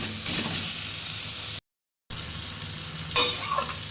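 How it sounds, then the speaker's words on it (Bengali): Steady broadband sizzling of onion and garlic frying in a pan, with a brief silent gap and a louder stir or scrape near the end. "পেঁয়াজের রসুনগুলো ঠিক ঠিক করে ভাজা হয়ে গেছে"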